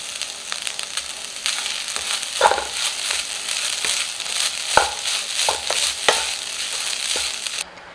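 Sautéed onions and grated coconut being stirred in a hot pan, a soft continuous sizzle with several sharp spoon scrapes and crunchy tossing sounds up close.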